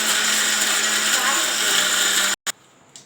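Mixer grinder whirs loudly at a steady pitch while grinding chutney, running continuously before stopping abruptly, followed by a short quiet tail.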